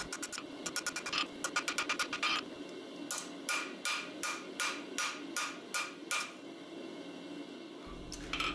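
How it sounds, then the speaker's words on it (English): Hand hammer striking a hot steel flint striker on an anvil while a blacksmith forges the handle shoulder, delivering rapid bursts of ringing metallic blows, then slower evenly spaced strikes, close and loud with brief pauses. "Here I'm just hammering down the shoulder a little bit at the top of the handle."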